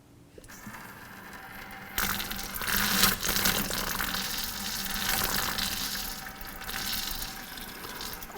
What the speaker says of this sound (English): we're going to take the water line, hold a bucket under it, and I'm going to have my assistant turn the water valve back on